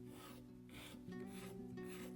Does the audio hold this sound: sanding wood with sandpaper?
yes